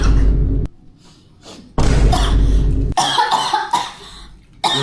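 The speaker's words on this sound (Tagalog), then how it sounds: "Lakas na ng ubo mo." A man with a bad, persistent cough hacking hard in a home, several loud harsh bursts in quick succession with short breathy gaps between them, close up and alone.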